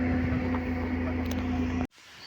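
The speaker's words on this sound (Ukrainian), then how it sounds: "Це о, тракторець у нас" A small tractor engine idles in a village with a steady, loud low drone, then cuts off abruptly near the end, leaving quieter background sound.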